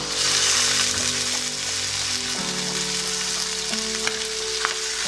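String beans adobo cooks in a pan with a loud, steady sizzle that runs unbroken throughout, with a low humming tone underneath and no talking.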